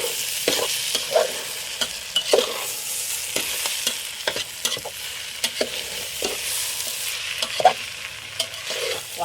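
Chicken biryani with coriander being mixed in a pot, repeated scraping stirs of a spoon against the metal over a continuous hiss of frying, close and fairly loud, no talking.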